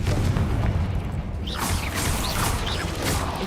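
The Confringo spell explodes in the video game Hogwarts Legacy, a heavy booming blast with low rumble, followed by crackling and whooshing magical effects that fade over a few seconds.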